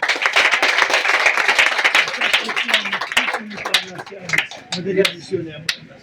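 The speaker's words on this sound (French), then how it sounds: "Applaudissez le Seigneur pour ça." Church congregation clapping together, loud and dense at first, then thinning into scattered individual claps while a voice speaks over the fading applause.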